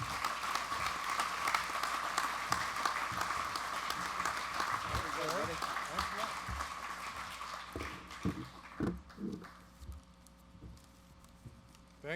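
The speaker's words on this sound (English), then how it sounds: "a warm round of applause for Dave LaFrance" An audience applauds at a softball Hall of Fame induction banquet, with steady dense clapping that fills the room and then thins toward the end.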